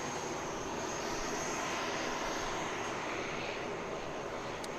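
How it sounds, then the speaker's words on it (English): A distant ATR turboprop airliner at Christchurch Airport, New Zealand, is starting its engines, heard as a steady, broad, faint roar with a thin high whine and no talking. "That was me saying it sounded like a Dash 8 was starting up its engines. It was actually an ATR."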